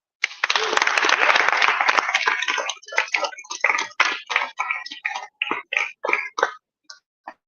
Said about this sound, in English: a proper round of applause for Professor Mumbi